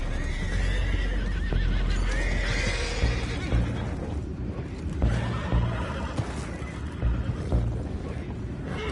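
Horses in the video game Red Dead Redemption 2 whinny and snort amid a continuous dense clatter of hooves and ambient rumble, sustained and fairly loud throughout.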